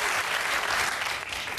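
Studio audience applauding and cheering on a German late-night talk show, a dense, steady burst of clapping that fills the room and fades slightly at the end.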